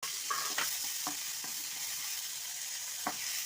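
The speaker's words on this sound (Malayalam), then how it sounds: "നല്ലവണ്ണം ഇളക്കി യോജിപ്പിച്ച് കൊടുക്കാം എല്ലാം കൂടെ" Tomatoes and onions fry in a pan with a steady soft sizzle, broken by a few brief scraping clicks of a spoon stirring them through.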